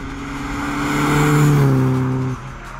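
A Volkswagen Polo G60 engine and exhaust rev loudly and close by, the tone rising to a strong peak before dropping off sharply near the end, with no talk.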